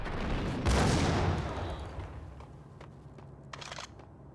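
Shotgun fire in the video game Max Payne: a loud, close blast with a long rumbling decay near the start, then a shorter, sharper second shot a few seconds later over a low background hum.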